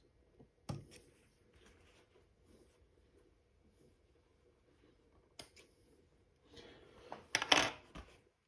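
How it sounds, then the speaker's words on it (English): Scissors snip thread ends at a Jack H2 industrial sewing machine: a few sharp, close clicks and rustles spread over otherwise quiet space, busiest near the end. "we'll pull the thread out and snip the ends"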